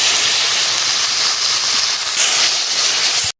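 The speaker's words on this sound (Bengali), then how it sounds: "লঙ্কার গুঁড়ো জিরে গুঁড়ো গোলমরিচের গুঁড়ো প্রচুর জল দিয়ে দেবো" Water poured onto chilli, cumin and black pepper powder frying in a pan while making prawn biryani gives a loud, continuous hiss and sizzle that holds steady throughout, then cuts off abruptly.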